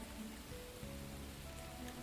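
Steady rain patters on a hard surface, a continuous wet wash with a low hum and faint tones beneath, no voices.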